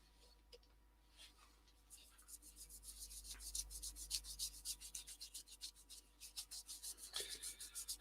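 Rhythmic hand sanding of a natural-edge yew bowl, a quick series of scratchy back-and-forth strokes on wood that grow steadier and louder, close to the listener.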